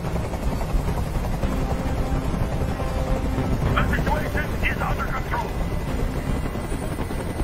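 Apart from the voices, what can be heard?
helicopter in a video game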